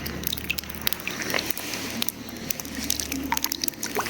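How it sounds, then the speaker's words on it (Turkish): Water dripping from the ceiling of a salt cave, scattered small drips and splashes over a faint low hum, with no talking. "Yukarıdan su damlıyor arkadaşlar."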